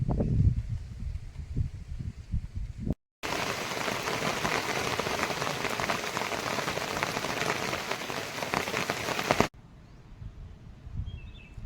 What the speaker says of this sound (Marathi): एवढ्यात पाऊस आला तर केलीच्या झाडाखाली लपलो